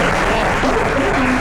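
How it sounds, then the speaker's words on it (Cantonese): A meeting audience of directors and ambassadors claps, a loud dense wash of applause mixed with voices throughout. "掌握到嘅話，俾掌聲就打啦。"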